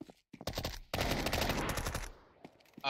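Gunfire in Counter-Strike 2 on the de_manor map: a dense, loud volley of rapid shots crackling for about a second and a half, with scattered softer pops before and after.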